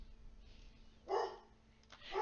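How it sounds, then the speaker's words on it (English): A dog barks once at mid distance in a quiet room, a short burst followed by a fainter second sound near the end. "my dog is barking"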